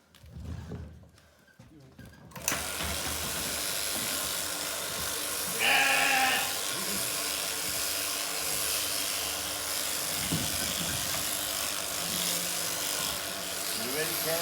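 A horned sheep bleats during hand shearing, a single clear bleat close by over the loud steady buzz of electric clippers, with a few softer bleats and shuffling later.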